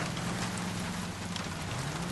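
Steady rain falls in the video game L.A. Noire, a soft, even hiss of drops on surfaces with a faint low rumble beneath, quiet and continuous.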